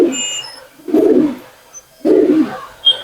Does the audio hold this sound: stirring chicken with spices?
no